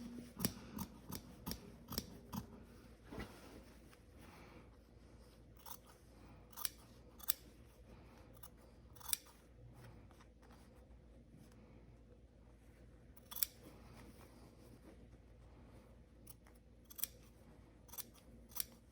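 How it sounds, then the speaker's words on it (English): Scissors trimming zipper tape and a waistband layer of fabric, a series of crisp quiet snips at irregular intervals, close up with nothing else around. "Trimming the zipper tape with it."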